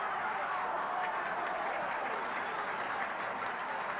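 A rugby league crowd at a 1982 Manly versus Canterbury match roars and cheers as a Canterbury player breaks downfield, a loud, sustained, dense wash of voices and applause throughout.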